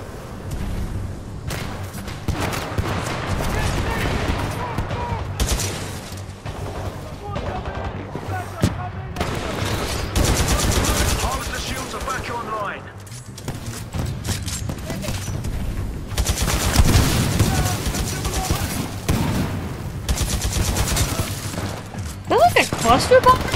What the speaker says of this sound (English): what is making all those mini explosions? That's somebody's gun